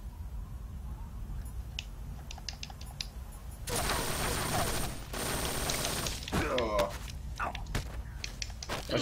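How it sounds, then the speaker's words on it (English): Rapid gunfire from The Boss during her boss battle in Metal Gear Solid 3, a dense burst of shots from about four to six seconds, followed by scattered clatter and movement sounds, with lighter game ambience and a few clicks beforehand. "Oh, she's just shooting at me."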